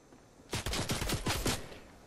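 Rapid burst of Fortnite gunfire, about seven sharp close shots in quick succession lasting around a second, alone without talk.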